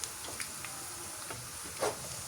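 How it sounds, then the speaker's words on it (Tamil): Steady sizzling and crackling of onions frying in a pan for chicken rice, with occasional stirring scrapes, close and continuous, no voices. "இங்கெல்லாம் ஆனியனும் பொரிஞ்சு கொண்டிருக்குது"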